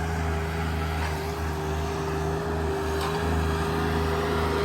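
An RK 24 tractor engine runs at a steady idle-like drone, close and constant, with a strong low hum and a sustained mid-pitched tone throughout, no speech.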